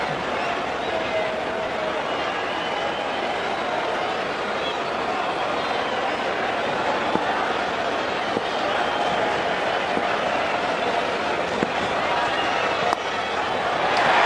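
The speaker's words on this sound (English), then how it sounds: "Loud cheer again from the capacity crowd of the Wanderers." A capacity crowd at the Wanderers cricket stadium roars during an India versus South Africa match, producing a sustained dense wash of cheering with a few sharp knocks, under faint commentary.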